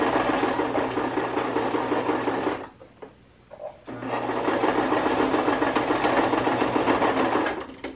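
A domestic sewing machine runs steadily while stitching a short seam on folded elastic for a child's pillowcase dress. It whirs in two bursts with a brief pause between, close and clear, with no talking.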